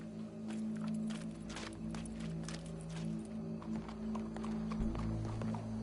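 Horse hooves in Red Dead Redemption 2 clip-clop steadily at a walking pace, fairly close, over sustained in-game music.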